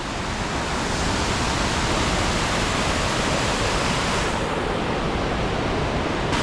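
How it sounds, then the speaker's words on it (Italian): Waterfalls and rushing water beside the Transfăgărașan road in Romania's mountains give a loud, steady broadband roar that fills the whole clip without a break, with no voices over it. "Cascate, acqua dappertutto."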